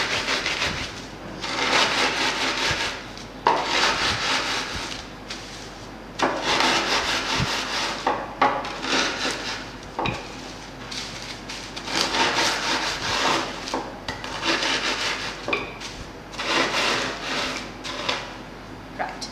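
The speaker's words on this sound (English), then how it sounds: "with my pin and just break up the really large chunks so that everything is more or less quite a fine sand" Biscuits crushed into fine sand-like crumbs with a rolling pin, heard as repeated rough rolling and grinding strokes in steady bursts, close and moderately loud with no talking.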